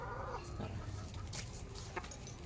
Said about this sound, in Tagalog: Lagay natin sa buhay na manok.